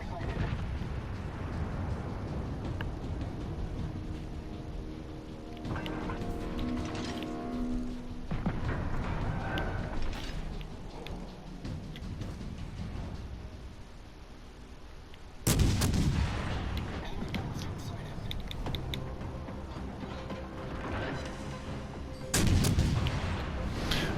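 Battleship main guns firing on a USS Tennessee Tier 5 battleship in World of Warships Legends, heavy booming salvos and rumbling explosions under continuous game noise, with two especially loud blasts standing out.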